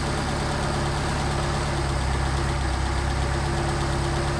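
A Solex carburetor engine idles steadily after adjustment, a close, continuous low rumble with a slight rise in speed partway through, no voices.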